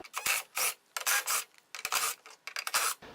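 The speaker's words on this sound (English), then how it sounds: "what I use is my impact with a 1/4-inch socket on it" A cordless impact driver fitted with a 1/4-inch socket backs screws out of a Craftsman belt-drive opener's logic board, giving short, rasping mechanical bursts in a quick stop-start rhythm.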